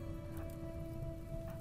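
Steady rain patters in the game Rimworld, a soft continuous hiss beneath a sustained low tonal hum, with no voices over it.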